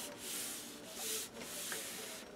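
Glued paper is rubbed down firmly onto an album page in a few close, scratchy strokes with a brief break in the middle.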